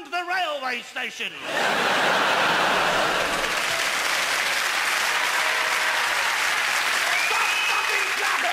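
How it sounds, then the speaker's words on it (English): Loud, sustained applause from a live theatre audience at a comedy stage show, with some laughter mixed in, bursting in after a brief spoken exchange and continuing steadily as a dense wash of clapping. "Stop fucking clapping!"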